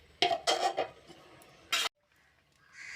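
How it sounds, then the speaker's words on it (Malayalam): A metal lid is set onto a cooking pot of fish curry: a few sharp clattering metallic knocks close by, then a brief pause and a final clank before quiet. "അടച്ച് വെച്ച് വേവിക്കാം"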